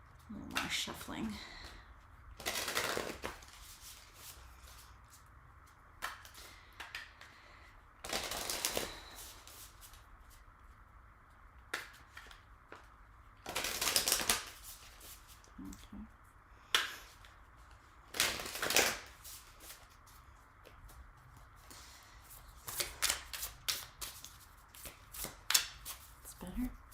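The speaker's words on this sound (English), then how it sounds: "little more shuffling" Tarot cards are shuffled close by in repeated crisp bursts of riffling and snapping, separated by quieter gaps, with a voice speaking softly at times.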